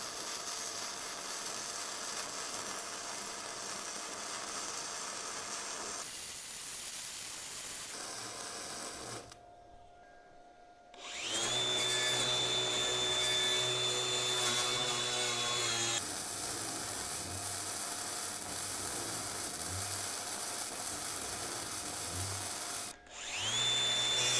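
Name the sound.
flux core arc welding on a frame gusset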